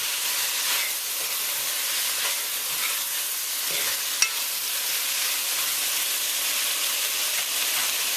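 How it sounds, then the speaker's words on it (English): Pork pieces sizzle in hot oil in a pot, a continuous bright crackling hiss at moderate level with occasional stirring scrapes and pops, no voices. "You want to give this another minute after you start hearing that sizzle"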